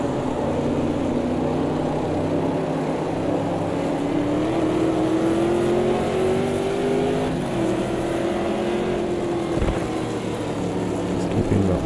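A Chevrolet Corvette C3-R 1970s race car at Interlagos in Automobilista 2, its engine droning loud and steady with the pitch slowly rising and falling as the throttle is feathered, no talk.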